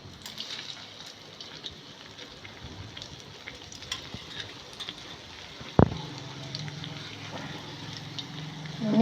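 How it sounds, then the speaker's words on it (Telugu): Bread omelette frying in hot oil in a pan, a quiet, steady crackling sizzle that continues throughout, with one sharp knock partway through, likely a spatula or pan being moved. "గోల్డెన్ బ్రౌన్ వచ్చే వరకు ఫ్రై చేయాలన్నమాట"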